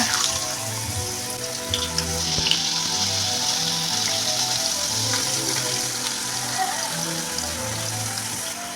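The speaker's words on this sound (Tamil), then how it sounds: "அடுப்பை லோ ஃப்ளேமில் வச்சுட்டு உருளைக்கிழங்கு எடுத்து எண்ணெயில் போட்டுக்குங்க." Potato slices frying in hot oil on a low flame for chips, a steady dense sizzle that stays loud and even throughout, close up with no talking.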